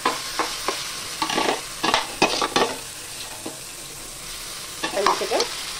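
Mashed raw plantain fries in a pan of mustard-seed tempering, with a low sizzle under repeated clattering stirs that come in clusters and then pause.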